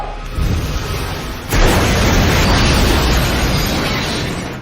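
An explosion blows apart a hospital room in a film scene, a sudden loud blast after a short lead-in, followed by a sustained roaring, crackling rumble that slowly fades.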